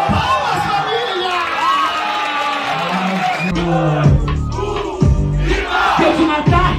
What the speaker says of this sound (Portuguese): Palmas, família!